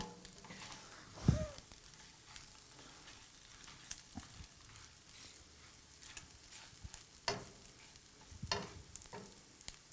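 Soy-based food cooking in a pan, a faint low sizzle with occasional soft stirring scrapes, quiet and close.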